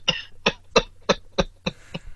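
A person coughs six times in a steady, evenly spaced rhythm, each cough sharp and close, with a faint low hum underneath.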